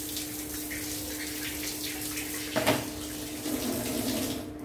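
Cold tap water runs steadily for cleaning a parrot cage, a continuous close hiss with a sharper splash partway through.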